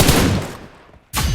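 Burst of automatic gunfire in the mobile battle-royale game PUBG Mobile, loud and close, with a dense rattle that fades into a short lull before firing abruptly resumes.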